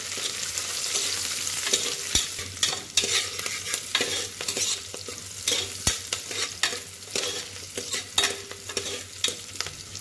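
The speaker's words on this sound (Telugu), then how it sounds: "పచ్చిమిర్చి, ఉల్లిపాయలు, కరివేపాకండి. ఇవన్నీ కలుపుకుందామండి." Green chillies, onions and curry leaves sizzle in a hot oiled pan while a spoon stirs them, the steady frying hiss broken by frequent scraping knocks and clinks.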